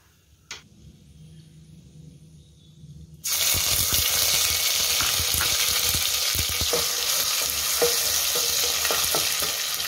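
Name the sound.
ginger garlic paste sautéing in oil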